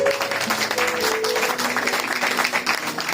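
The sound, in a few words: church congregation applauding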